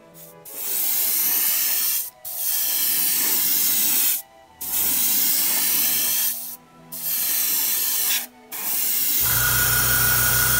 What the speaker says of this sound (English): I'll be shooting on the paint with the Tamiya lacquer thinner